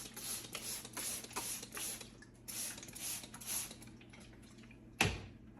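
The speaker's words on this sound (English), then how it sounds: "We're also going to spray down the door." Cleaner spritzed from a spray bottle onto a microwave door: several short hissing bursts in a loose rhythm, close and moderately loud, followed by a sharper click or knock near the end.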